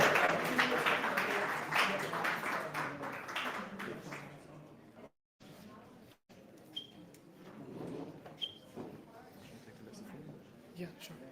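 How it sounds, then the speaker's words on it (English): An audience at a startup demo day event applauds for about five seconds, with brisk, fairly loud clapping that fades out before a person begins speaking. "Give them a big round of applause."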